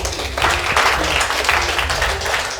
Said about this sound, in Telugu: కొట్టండి మరి క్లాప్స్ గట్టిగా.